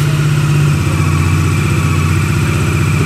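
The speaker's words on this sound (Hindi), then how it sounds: "अब सुन लेते हैं इसका एग्जॉस्ट साउंड के किस टाइप का लोगों को इसमें एग्जॉस्ट साउंड मिलने वाला है।" A Bajaj Dominar 400 motorcycle idles after a cold start, its exhaust putting out a steady, close, loud throb with even pulsing and no change in revs.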